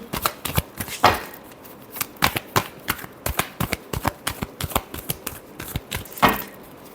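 Tarot cards being shuffled by hand close up, a rapid run of crisp papery riffles and slaps in an irregular rhythm, with a few heavier thumps as the deck is squared, and no voices.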